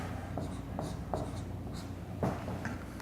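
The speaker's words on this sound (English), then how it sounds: "I'm going to write this number." A number is written on a board with chalk or marker during a maths lesson on adding and subtracting integers, giving several short scratchy strokes, close and clear over a steady room hum.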